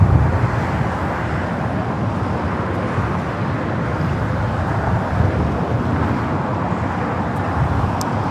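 A Breeze Airways airliner at LAX gives off a continuous loud, broadband jet roar that holds steady throughout and blends with wind and distant traffic.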